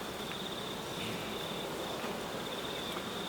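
Honeybees hum from an opened beehive, a continuous, even buzz with a steady high whine running through it, close and unbroken.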